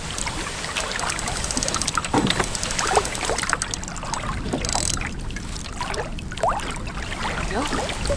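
Canoe gliding on open water during a windy winter camping trip, with steady trickling and dribbling water from paddle strokes continuing throughout at close range, no talking.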